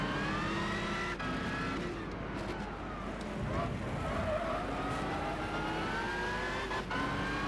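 A Dodge Challenger race car engine in Gran Turismo 6 historic racing roars continuously, revving up and down through gear changes as it races against other classic cars, loud and close throughout.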